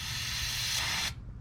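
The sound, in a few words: spraying cleaner into a two-stroke engine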